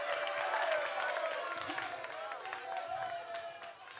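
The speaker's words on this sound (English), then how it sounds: "you are still applauding" Audience at a Ghanaian Most Beautiful pageant show applauding, a dense patter of clapping with some cheering, strong at first and easing off slightly over a few seconds, with a voice faintly mixed in.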